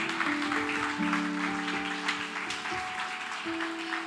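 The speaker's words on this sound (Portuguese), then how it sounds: "Dá uma salva de palmas ao Senhor." A church congregation claps steadily throughout a sermon service, mixed with sustained musical tones in the background.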